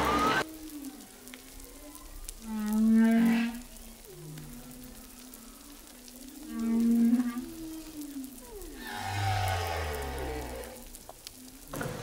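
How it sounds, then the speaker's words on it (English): Several whales call underwater, picked up by a hydrophone: drawn-out moaning, whooping tones rise and fall across the span, with louder swells near the start, middle and end over a crackling background hiss. "we can listen to the whales and what they're up to down there"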